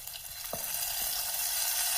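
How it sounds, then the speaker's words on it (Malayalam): Fried mustard seed tempering hits a curry with a brief hiss and a steady close sizzle, with a couple of soft taps early on. "കടുക് വറുത്തത് കറിയിലേക്ക് ചേർക്കാം."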